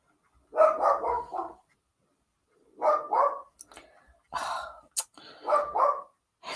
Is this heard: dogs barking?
yes